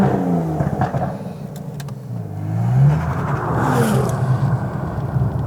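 Aston Martin DBS Superleggera with a quad exhaust system accelerating, a loud, close engine note rising and falling in pitch as revs build, no voices over it.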